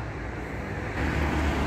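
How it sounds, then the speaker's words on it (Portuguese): Road traffic rushes past a bus stop in the Netherlands on a cold day, a continuous broadband roar of passing vehicles that swells louder near the end. "Peço desculpa pelo barulho, que eu estou aqui numa paragem dos autocarros"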